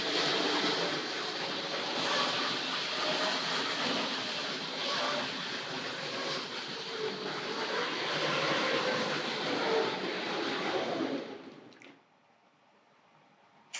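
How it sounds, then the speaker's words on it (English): A Tri-ang R.155 BoBo TC switcher model train hauling hopper cars, running around its track with a steady broadband rumble and rattle for about twelve seconds before cutting off abruptly to near silence. "the other train storming around over my left shoulder here"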